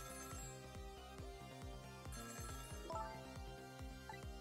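A telephone rings in Ghost Trick on Nintendo Switch, a repeating electronic ring over a rhythmic game music loop at low volume, with no voices.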